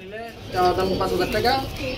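White Danish pigeons coo softly in a loft, their low warbling calls repeating close by while someone talks over them throughout.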